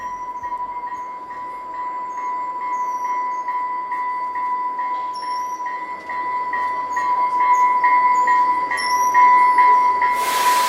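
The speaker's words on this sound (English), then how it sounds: "the southbound train is here" A southbound train rumbles into a station in Utah while a bell rings in a steady repeating pattern. The noise grows louder toward the end, and no one talks.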